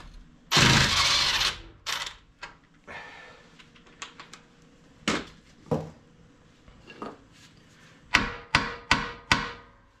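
A bolt is hammered out during front air suspension work on a Range Rover L322, with an initial rattling burst followed by scattered metallic knocks and a closing run of four or five sharp, close strikes.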